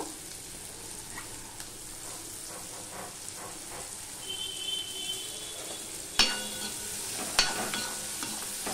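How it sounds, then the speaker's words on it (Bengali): Onions and chopped ginger frying in a pan for mixed dal, a steady sizzle with stirring scrapes and two sharp utensil knocks toward the end, no speech. "পেঁয়াজটা একটু লাল লাল করে ভেজে নেব।"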